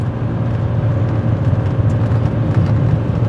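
An old Porsche 911 hot rod engine cruises at about 2,500 rpm, a loud steady low mechanical drone with a whirring edge heard from inside the car, constant and without voices.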